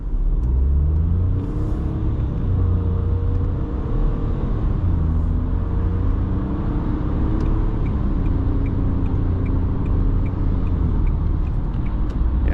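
A brand-new budget car's engine revs steadily and loudly up close, a continuous deep rumble and whir holding for about twelve seconds with no talking.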